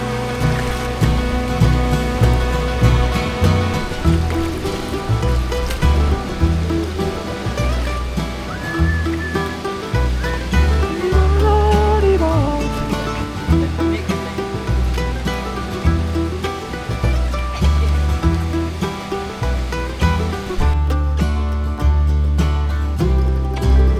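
Rushing water from a hidden waterfall roars steadily and loudly throughout, a dense continuous wash with low rumble, without speech.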